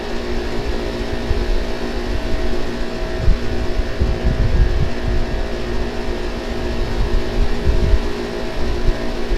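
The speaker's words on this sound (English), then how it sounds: "right now it's only one compressor running on the circuit 1" An HVAC unit that is low on charge, running on one compressor on circuit 1, gives a steady, close mechanical drone with a low rumbling hum and an even, continuous motor tone, with no talk.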